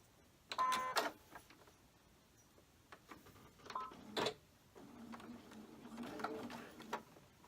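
A sewing machine stitching a pinned quilt block, running in a few short bursts with brief pauses and mechanical clicks, close but fairly quiet, with no talk.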